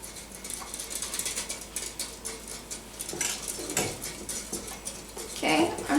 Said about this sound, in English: You want to go ahead and whisk it?